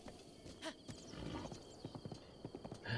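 Horse hooves clip-clopping in Breath of the Wild, with a short burst of steady footfalls, a brief whinny and game music faintly in the background.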